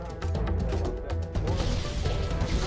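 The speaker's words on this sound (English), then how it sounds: "Explosions." Loud, repeated bursts of booming impacts and crashes with a busy, dense rumble, Halo: The Master Chief Collection explosions and grenades going off in quick succession.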